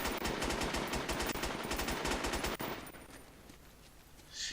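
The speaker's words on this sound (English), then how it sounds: "he's just up there shooting everybody" Rapid automatic gunfire in the PlayStation 4 shooter Socom H-Hour, a dense rattling burst of shots that runs for about two and a half seconds, then drops to quieter game ambience with no talk.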